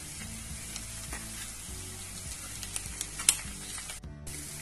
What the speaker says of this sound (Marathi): तर छान अशी फोडणी बसलीये,